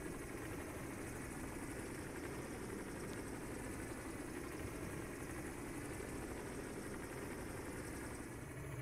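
Airbus H135 helicopter turbine and rotor drone in Microsoft Flight Simulator 2020, a steady, continuous, fairly quiet whine and rumble that holds level for the whole stretch with no talking.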